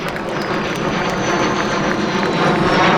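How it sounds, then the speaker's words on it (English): A Cessna A-37 Dragonfly attack jet roars loudly and steadily, its engine noise broad and sustained with a high whining tone over the full three seconds, no speech. "attack aircraft model 37. It's a Cessna, believe it or not."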